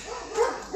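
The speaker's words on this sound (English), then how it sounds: "Goddamn dogs know I do a video every day at this time." Dog barking from somewhere nearby, a brief yelping bark rising over low background noise in under a second, moderately loud and alone.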